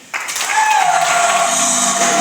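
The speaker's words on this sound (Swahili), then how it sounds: "hebu naomba tuwapongeze kwa makofi mengi sana" An audience at a local government gathering bursts into sustained applause that starts abruptly and holds steady, a broad wash of clapping with a high tonal whistle or feedback ringing over it.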